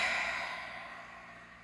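A long, deep breath exhaled out through the mouth during a meditation session on a mat, a soft breathy whoosh that fades gradually, quiet and alone.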